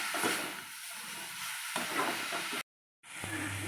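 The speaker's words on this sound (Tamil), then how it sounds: "இப்போ வந்து ஒரு 10 மினிட்ஸ் சிம்மில் வச்சு நல்லா வதக்கிட்டு" Broccoli fries in a pan with chilli powder, a soft sizzle and hiss with light stirring scrapes, briefly cutting out near the end before the sizzling resumes.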